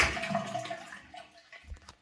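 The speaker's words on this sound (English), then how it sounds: "Still not flushing really well." A toilet that is not flushing properly gushes and swirls briefly up close, the rush of water fading out within a couple of seconds as a dull gurgle remains.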